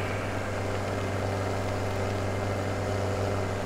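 A farm vehicle engine from Farming Simulator 17 idles steadily with a deep, even rumble, close and constant throughout, with no voices present.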